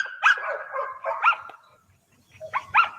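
A foundation dog at a protection-dog training session barks in sharp bursts, three separated groups of close, loud barks with short pauses between them.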